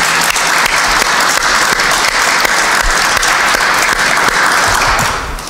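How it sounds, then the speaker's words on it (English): Loud, dense applause from a press-conference audience for Dave Remington at the naming of Nebraska's athletic director, a steady roar of clapping lasting several seconds before tapering off. "Please give Dave Remington a big round of applause."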